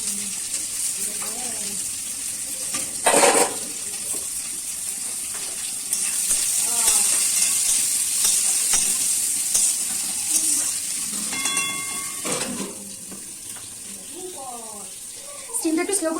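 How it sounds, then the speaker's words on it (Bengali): Onions fry in a wok with a steady, close sizzle throughout, broken by occasional stirring clatter and a few louder scrapes. "স্টিমটা একটু স্লো করে দিলাম আর পেঁয়াজটা ভাজতে দিয়ে দিলাম"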